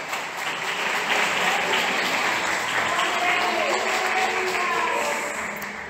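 A church congregation applauds during a sermon, a dense, steady wash of clapping that holds for several seconds and fades slightly at the end, with voices faintly mixed in.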